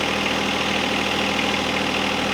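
A tractor engine idling close by while the tractor is being lined up with its bucket: a loud, steady, even rumble with a constant low throb that holds unchanged throughout.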